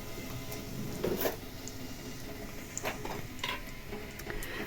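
Soft sizzling of batter frying in a pan, steady and close, with a few light clinks of a utensil against the pan.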